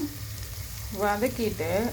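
Onions and potatoes sauté in a pan with a steady, close sizzle and occasional stirring, while a voice talks over the cooking.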